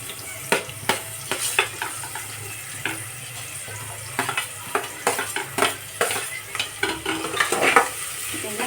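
Mixed vegetables for pulao are fried in oil while a spoon stirs and scrapes the pot in irregular bursts of clatter, all over a constant loud sizzle with no speech.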